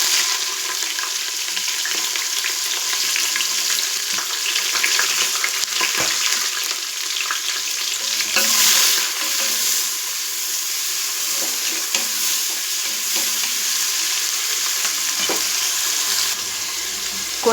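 Onions added to oil with whole spices such as star anise, mace, cloves, cardamom and pandan leaf for biryani, a loud, close, steady sizzle with a few soft scraping stirs, no voices.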